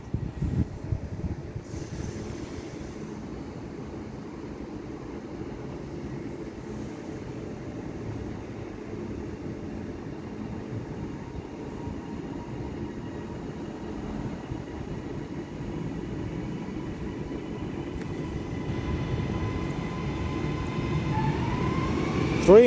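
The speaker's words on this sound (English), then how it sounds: "getting ready to depart is the 1204 Trans-Pennine Express service through to Edinburgh Waverley" A TransPennine Express train stands at Manchester Airport station before departing for Edinburgh Waverley, giving a steady low rumble and hum under the station ambience that grows slightly louder toward the end, with rising tones at the close.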